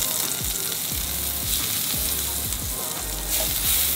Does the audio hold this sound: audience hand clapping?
no